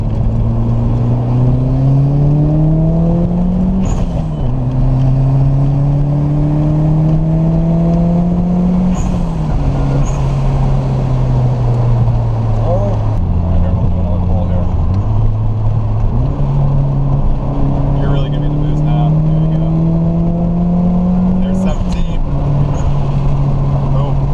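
A 1995 Eagle Talon TSI with a turbocharged engine accelerates hard onto a highway, its loud, steady engine note climbing through the revs with brief dips at gear shifts, under some talking inside the car.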